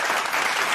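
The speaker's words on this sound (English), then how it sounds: "Oh, you want to give him a applause?" A brief burst of audience applause, dense and even clapping from a group, fairly loud and with no voices over it.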